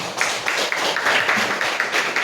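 A crowd at a school handover ceremony claps for the school operator, producing brief, steady applause with a fairly even rhythm heard up close.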